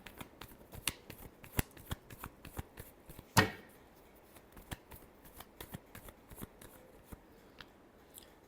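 Tarot cards are shuffled in a rapid series of crisp riffling snaps and taps, close and fairly quiet, with one sharper burst midway through and no talking.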